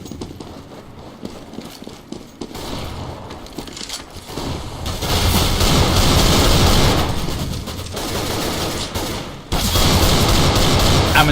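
Gunfire from a Desert Eagle pistol in Counter-Strike: Global Offensive on de_dust2, a loud, dense stretch of shots and game noise that swells midway and runs continuously, with no voices over it.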